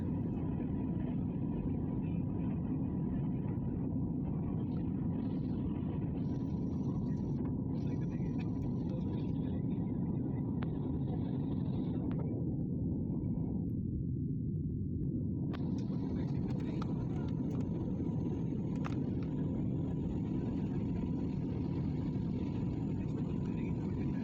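Steady roar of a passenger jet cabin in flight on a domestic Indian route, a constant loud broadband engine drone running throughout with only slight shifts in its hiss.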